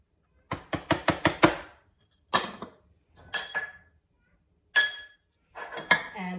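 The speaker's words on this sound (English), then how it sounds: "We're going to mix in our potato starch, our baking powder," Potato starch and baking powder are mixed into frikadeller batter in a bowl: a quick run of five or six sharp clinks of a utensil against the bowl, then several separate scraping strokes with short pauses between them.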